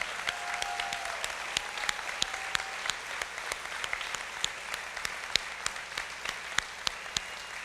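Faint, distant audience applause for LPN graduates at a State of the Nation address, steady scattered clapping from a large crowd with a few sharper claps standing out.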